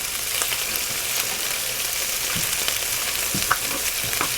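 Continuous close sizzling and crackling of food frying in a pan, with occasional sharp pops and clicks, no voices.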